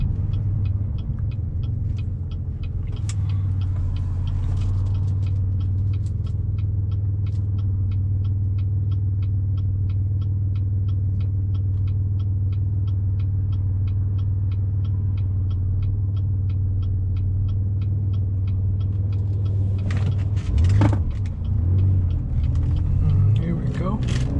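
Inside a 2010 Chevy Impala LTZ on the move, a steady, subdued low road rumble and engine drone hold evenly throughout, with a brief heavier rumble near the end.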